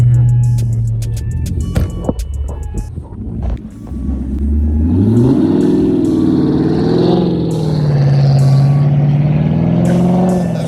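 A car with a loud aftermarket exhaust revving hard on a snowy road during a snowstorm drift session, deep rumbling engine tone rising and falling close by, with a few sharp clicks and knocks at the start.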